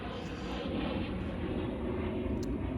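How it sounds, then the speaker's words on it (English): A low-flying aircraft passes overhead outdoors, heard as a steady, loud, broad engine roar that fills the whole stretch without easing, with no speech over it. "I can't do anything about background information like low-flying aircraft"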